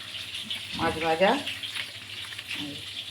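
Fish sizzles in a frying pan in a home kitchen, a soft continuous hiss under a short burst of a voice speaking near the start.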